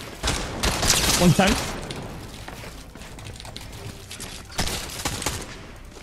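Video game gunfire bursts out in a loud rapid volley near the start, then again more briefly later, with a player talking over the action.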